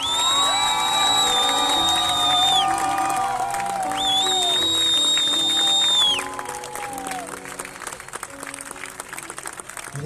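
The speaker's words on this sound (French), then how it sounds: "faites du bruit pour le docteur Bouffy" A crowd at a charity walk and run cheers, whoops and applauds for Doctor Bouffy, loud and sustained with shouted calls and high voices, then the noise thins to scattered clapping and chatter.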